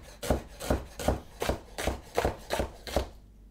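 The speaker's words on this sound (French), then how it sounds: "Et après, on n'a plus qu'à hacher." A knife chops food on a cutting board with eight steady, evenly spaced chops, close and crisp, then a short silence.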